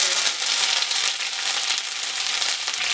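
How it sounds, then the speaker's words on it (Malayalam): Mustard seeds, dried red chillies and curry leaves in hot oil give a loud, continuous sizzle and crackle up close, with nothing else over it and no voice. "എണ്ണ ചൂടായി വന്നിട്ടുണ്ട് അതിലേക്ക് അര ടീസ്പൂൺ കടുക് ഇട്ട് കൊടുക്കാം കടുക് പൊട്ടി വന്നിട്ടുണ്ട് രണ്ട് മൂന്ന് വറ്റൽ മുളക് അല്പം കറിവേപ്പിലേക്ക്"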